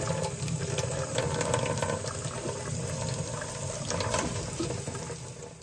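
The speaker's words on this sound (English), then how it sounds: "I'm also going to go ahead and run a little water over them just to get the rest of the juice off of them" Water from a kitchen tap runs steadily over tomato seeds in a strainer, a soft continuous splashing hiss with no voices.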